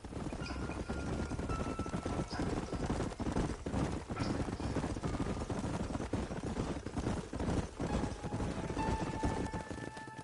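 Horse hooves clip-clop steadily throughout in the Red Dead Redemption video game, riding across the New Austin frontier, loud and continuous under a dense game soundscape with faint musical tones.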